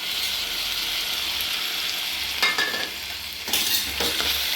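Cauliflower pieces for gobi manchurian frying in a pan, a steady crackling sizzle with occasional scraping stirs of a utensil, close and continuous with no talking.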